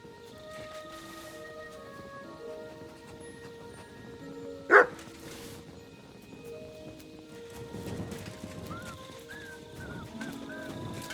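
A dog in the medieval role-playing game Kingdom Come: Deliverance 2 gives a single loud bark over quiet ambient game sounds.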